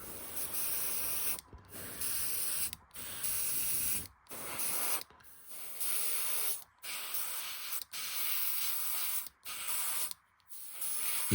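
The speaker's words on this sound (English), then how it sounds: "I had to thin it out quite a bit to get it to go through the airbrush too" Airbrush spraying heavily thinned Army Painter Warpaint Mythical Orange in a string of steady hissing bursts, each a second or two long with short silent gaps between, close and fairly loud.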